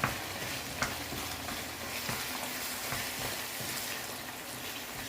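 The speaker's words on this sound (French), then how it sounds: "on va mettre le nokos, donc les oignons et tout ça. Donc on va les faire revenir aussi." Onions sautéing in a pan for a Senegalese ndambé meat sauce, a steady close crackling sizzle with faint stirring scrapes and a few small louder pops, no talking.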